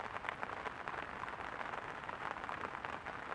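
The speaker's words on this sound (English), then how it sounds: "The rain's really coming down now." Steady rain patters down during a carp fishing session at a lake, a dense, continuous hiss of drops on surfaces with no voices, holding an even level throughout.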